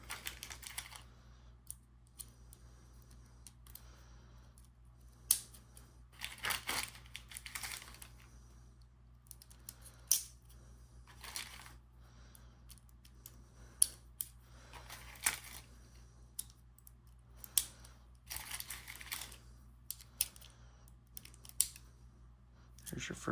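Rounds being loaded into a Chinese Type 56 SKS rifle, a series of sharp metallic clicks and snaps at irregular intervals, close and crisp over a quiet room.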